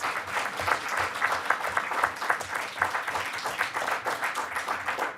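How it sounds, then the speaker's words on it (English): An audience at a League of Women Voters candidate forum applauds, dense, lively clapping with a distinct patter of individual hands, moderately loud and sustained for about five seconds. "Please give yourselves a round of applause and a round of applause for these candidates."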